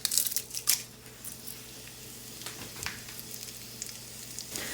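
Red chillies sizzle in hot ghee already holding cumin and mustard seeds, a soft steady frying hiss with a few louder crackling bursts near the start before settling into a quieter continuous sizzle.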